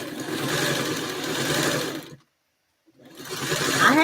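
A small sewing machine in a workshop runs fast with a steady, dense whirring hum, stops briefly into silence, then starts up again and speeds back up.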